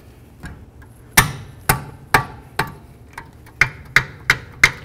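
A rubber mallet strikes a wrench on a caliper bracket bolt of a 2007–2012 Nissan Altima, giving about eight sharp metallic taps in a quick, fairly even rhythm, close and clear with brief ringing after each hit.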